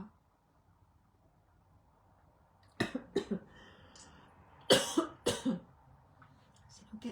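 A woman coughs several times in quiet surroundings, a pair of sharp coughs followed a moment later by a cluster of three more, close and fairly soft.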